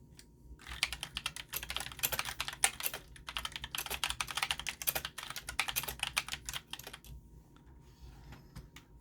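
Mechanical keyboard switches, including blue and brown types, clatter under steady typing for several seconds, a dense run of crisp close keystrokes that thins out and trails off near the end.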